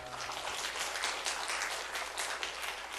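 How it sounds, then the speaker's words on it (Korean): A church congregation claps together at the close of a class session, a steady, moderately faint wash of applause lasting a few seconds with no talk over it. "우리 하나님께 영광의 박수 올려드리겠습니다."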